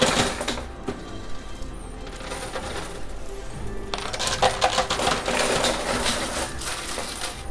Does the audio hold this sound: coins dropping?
yes